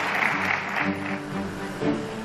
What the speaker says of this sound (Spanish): esto se merece un aplauso